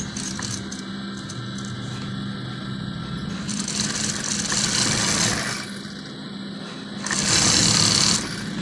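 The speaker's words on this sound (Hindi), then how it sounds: "तो इसके बाद आपने इसके साइडों पे यहाँ पे सिलाई लगा देनी है।" A sewing machine stitches along the sides of a kurta beside buckram, giving a steady mechanical whir that speeds up in louder bursts near the middle and end.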